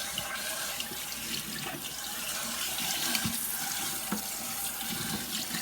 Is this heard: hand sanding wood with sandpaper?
no